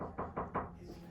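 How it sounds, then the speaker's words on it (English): Three quick knocks on a hotel room door, faint and slightly distant, evenly spaced. "And somebody's at the door."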